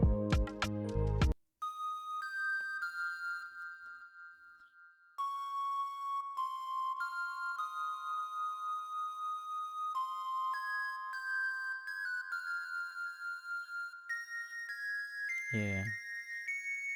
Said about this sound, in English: which is pan flute